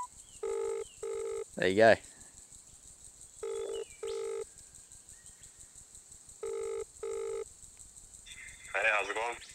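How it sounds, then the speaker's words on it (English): Mobile phone placing a call: repeated paired dialing tones and ringback beeps in a quiet room, with a short voice speaking briefly in between. "I'm just gonna try calling someone just to see if I can actually call someone."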